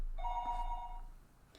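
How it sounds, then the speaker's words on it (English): An old landline telephone rings once with a bright electronic trill, a short steady tone that stops abruptly, its echo fading quietly before a faint click. "he picked up the phone after the 3rd ring had finished, its reverb dampened by his action"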